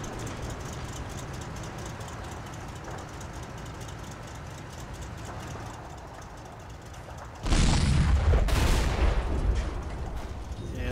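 Tank gunfire from Soviet T-34s in the WWII game Combat Mission Red Thunder: a dense, distant crackling rumble of battle gives way to a sudden loud blast and heavy reverberating boom near the end.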